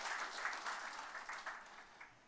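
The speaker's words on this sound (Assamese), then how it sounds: "সকলোকে তেখেতসকলৰ কাৰণে হাত চাপৰি দিবৰ কাৰণে মই অনুৰোধ জনাইছোঁ" Applause from an audience in a hall at an anniversary concluding ceremony, honoring a team of cyclists, with steady clapping over the whole moment, moderately distant and fairly faint, with no talking over it.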